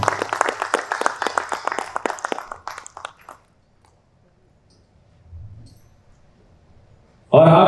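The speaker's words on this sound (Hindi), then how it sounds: "इनके लिए जोरदार ताली हो जाए।" Warm applause and clapping from an audience honoring senior theatre artist Suman Kumar after a stage play at Premchand Rangshala, a dense burst of claps fading out after about three seconds into near silence.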